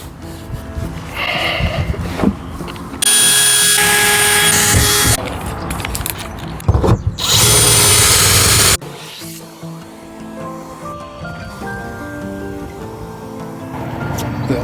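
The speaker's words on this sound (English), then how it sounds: "if you're drilling through metal, don't do it over a carpet" A power drill drills through metal indoors over carpet while fitting a Bluetti charger in a vehicle, with loud sustained bursts of high whining grind interrupted by pauses and handling noise.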